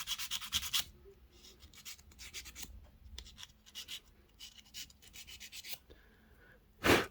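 An abrasive file scrapes over a plastic toy part shielded with tape, giving short rhythmic rasping strokes in quick bursts with brief pauses, close and fairly quiet, with a louder final stroke at the end.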